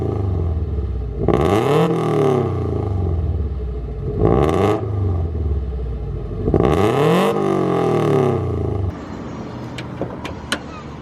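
A 506 bhp Subaru Impreza with a 2.1 stroker race engine, forged crank and Wiseco pistons, breathing through a Blitz Nür-spec exhaust silencer, barks through three sharp, loud rev blips that fall away each time, then settles to a lumpy idle with faint ticks.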